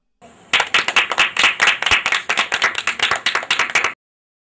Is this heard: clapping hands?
yes